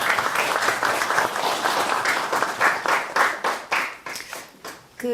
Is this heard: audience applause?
yes